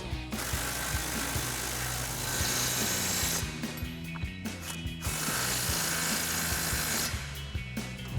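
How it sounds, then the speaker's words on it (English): An impact wrench with a 24 mm socket tightens suspension nuts while lowering springs are fitted on a 2016-2024 Camaro. It gives loud, continuous rattling bursts broken by short pauses, close up, with no talk. "we're gonna grab our impact with our 24 millimeter socket and then a 21 millimeter wrench and tighten them down"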